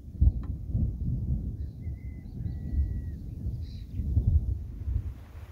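Low, continuous thunder rumbles and swells in the distance before a storm, heard outdoors near a parked camper van on a dirt lot, with faint birdsong above it.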